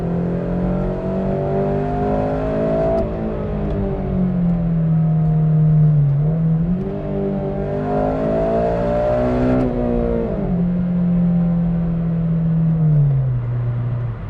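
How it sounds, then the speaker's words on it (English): An 8th generation Honda Civic Si engine revs up repeatedly, its harmonic tone climbing and falling in several long sweeps, loud and close with no talking. "this thing just loves to rev"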